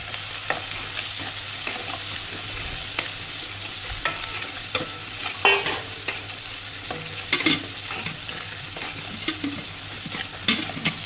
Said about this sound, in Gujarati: થોડી વાર માટે આને બ્રાઉન થઈ જાય ત્યાં સુધી ચડવા દેશું.